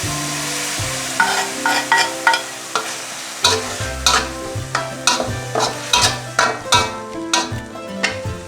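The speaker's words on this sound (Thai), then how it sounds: "แล้วก็ผัดไปเลยครับคนไปเลย" Minced pork stir-fried in a hot pan for spicy pad kaprao, a spatula scraping and clanking in a steady rhythm of sharp strokes over a continuous sizzle, close and loud with no talking.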